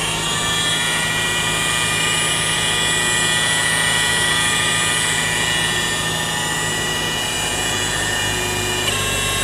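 A polishing machine buffs the paint of a camper van with a loud, steady whir that runs unbroken throughout.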